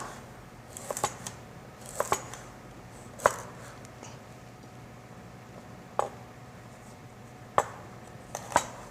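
Fresh ginseng sliced thickly on the diagonal with a knife, several crisp, separate taps of the blade hitting the board at irregular intervals, close and fairly quiet against a soft background hum.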